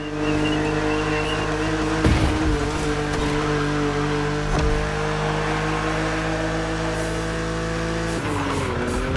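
A BMW Z roadster two-seater racing in The Crew Motorfest, its engine holding a steady, loud drone with brief tire squeals and shifts in pitch near the end.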